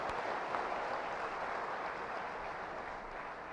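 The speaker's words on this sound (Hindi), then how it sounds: "तालियां बजा के स्वागत करें" A crowd claps steadily and continuously, a dense even patter of applause that holds at the same level throughout with no voices.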